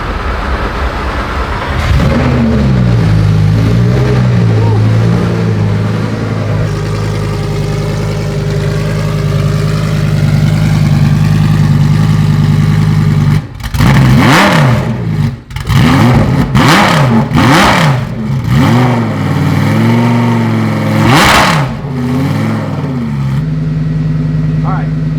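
A Lamborghini Super Trofeo race car engine idles steadily, then fires into a series of sharp, loud revs with rising and falling pitch, close by and dominating, with a voice talking over it.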